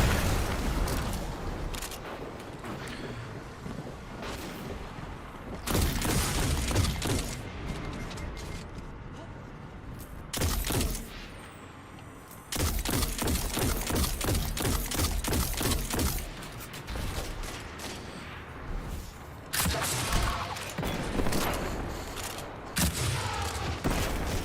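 Rapid bursts of weapon fire and booming blasts from a Destiny 2 firefight, loud and near, coming in dense volleys broken by short lulls, with a player talking over the shooting.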